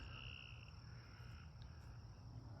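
Frogs croak and trill continuously around a full farm pond, joined by insect-like chirring, a dense, faint chorus from a distance with no voices.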